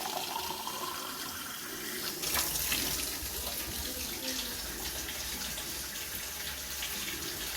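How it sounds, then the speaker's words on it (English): Water pours steadily into a pot holding instant noodles and vegetables, a constant rushing splash that grows slightly stronger partway through and then runs on evenly, fairly quiet and without speech. "Now this water goes into here."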